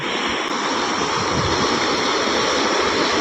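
A flooded river in a Konkan village, swollen by heavy rain, rushes past in a loud, continuous churning flow that stays close and even throughout.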